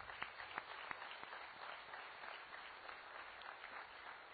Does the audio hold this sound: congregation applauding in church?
yes